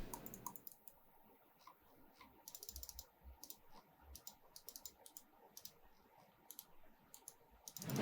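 Logitech Superlight gaming mouse clicks, a string of quiet, crisp clicks in irregular bursts with no one talking.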